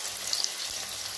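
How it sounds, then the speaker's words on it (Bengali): Potatoes frying in a pan with salt, turmeric and chilli powder for Bengali aloo dum, giving a steady close sizzle with faint stirring and no voices. "ভালো করে আলুগুলো ভেজে নেব"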